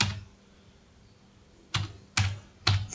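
Three short taps land on a computer keyboard after a quiet pause, each a sharp, close click while someone types a title for an HTML web page.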